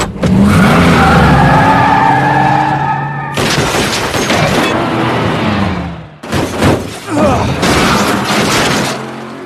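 Film car chase with a fleeing policeman dodging gunfire, loud squealing tire skids and revving engines, punctuated by sharp impacts and bursts of noise in quick succession.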